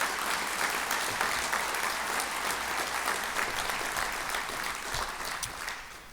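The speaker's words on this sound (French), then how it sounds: "Vous pouvez les applaudir aussi." A crowd at a public address applauds the gendarmes and police with sustained, steady clapping that eases slightly toward the end.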